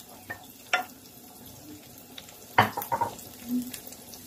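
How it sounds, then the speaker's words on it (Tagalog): Onion and garlic being sautéed in a pan, with a few sharp sizzling bursts and scraping stirs over a low crackle, fairly close. "gisa na natin ang ating onion. Sunod ang garlic."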